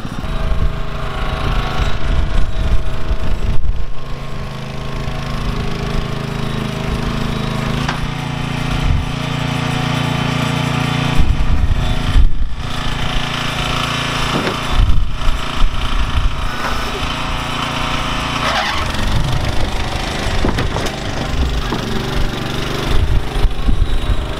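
A mobility scooter fitted with an engine runs close by with a rough, loud, continuous drone that rises and falls as the throttle is worked, with brief clattering bursts and no voices.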